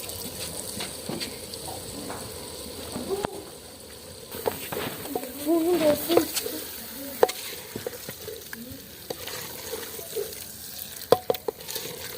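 Turnips being stirred into a curry in a pot at a village cooking spot: soft scraping and wet sizzling mixing sounds, with a few sharper clinks of the spoon against the pot, continuous at moderate volume.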